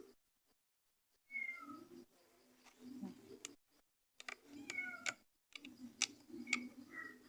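A cat meows several times nearby, sounding short and fairly soft, with quiet pauses and light ticking or clicking sounds between the calls.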